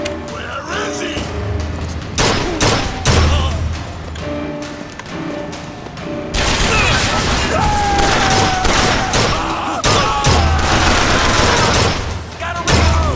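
Gunfire in the video game Bioshock Infinite, loud repeated shots and booms in a chaotic firefight with dense crackling bursts over game ambience, growing more intense partway through.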